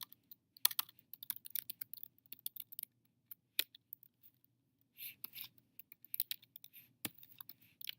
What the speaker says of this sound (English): type the labels and data from the table above into your spreadsheet